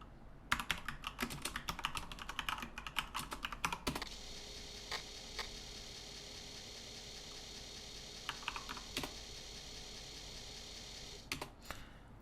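Keys clatter on a Commodore 64 keyboard as a program is typed in. Dense bursts of clicks come first, then sparse, isolated keystrokes over a steady background hum, and a short flurry of typing returns at the end.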